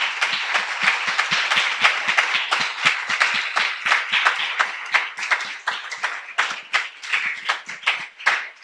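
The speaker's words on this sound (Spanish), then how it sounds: "Dale un aplauso al Señor." A church congregation claps together in a quick, fairly regular rhythm, the individual handclaps distinct and close, continuing steadily with only faint voices underneath.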